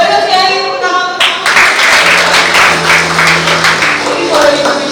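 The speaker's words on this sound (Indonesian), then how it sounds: "boleh sekali tepuk tangan untuk" Applause from a church talk-show audience at a Sunday service, a burst of clapping that rises after a voice and carries on steadily under low background sound.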